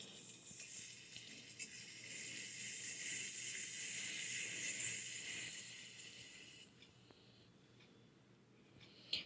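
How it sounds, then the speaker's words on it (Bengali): Ginger garlic paste and marinated chicken stirred in a hot pan for chicken biryani, giving a steady bright sizzle with faint scraping, easing off near the end before a small clink; no talking. "আদা রসুনটা দিয়ে ভালো করে নাড়াচাড়া করে নেব"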